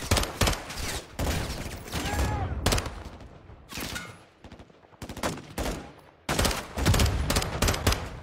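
Gunfire in the video game Call of Duty Modern Warfare 2, loud bursts of rapid automatic shots in several clusters with short pauses between, while a player talks over it.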